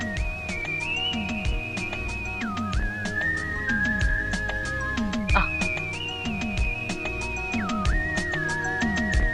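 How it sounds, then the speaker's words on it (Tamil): A man whistles a sustained, wavering melody with sliding pitch changes, heard over sharp, repeated percussive knocks in a comedy scene. "ஒரு ஐயா மேலிருந்து வந்து விசில் அடிச்சாரு"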